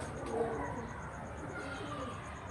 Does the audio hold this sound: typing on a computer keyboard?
no